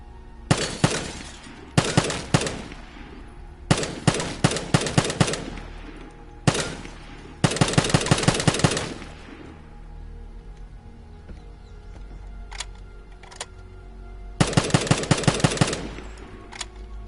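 Rapid automatic gunfire in a free video game, fired in several loud bursts of a second or two each, separated by pauses with a few isolated single shots near the end.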